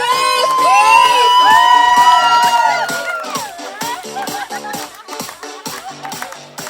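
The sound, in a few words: wedding crowd applauding and cheering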